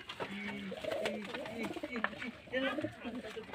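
Pigeons in a loft, giving soft throaty coos alongside splashing and fluttering as they bathe, close by, with people talking over them throughout.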